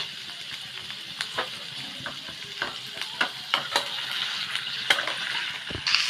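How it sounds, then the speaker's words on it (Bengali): Chopped capsicum, green chili and garlic stirred in a hot pan, a steady sizzle with repeated scraping strokes of a spatula throughout, close and fairly loud with no talk. "আমি দিচ্ছি ক্যাপসিকাম কুচি করে রাখা, আর একটু কাঁচা লঙ্কা কুচি আর রসুন কুচি দিয়ে এটাকে আমি নেড়ে নিচ্ছি"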